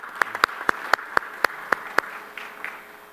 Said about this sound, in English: I'd like to give a round of applause to our amazing panelists here